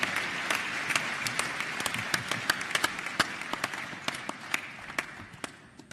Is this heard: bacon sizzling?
no